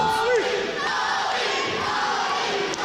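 Wrestling crowd in an arena roaring and cheering as a match begins, a dense, sustained wall of voices with shouts rising above it throughout.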